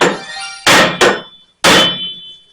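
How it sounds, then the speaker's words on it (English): A metal hammer strikes the wheel bearing hub of a 2008 Ford Escape three times, each sharp metallic clang ringing close and loud before fading. "get some sort of metal hammer, something a little more powerful than the rubber mallet, and just kind of hit this."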